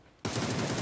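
Gunfire during a PUBG esports match erupts suddenly after a brief quiet moment, a loud, dense burst of rapid shots that carries on steadily.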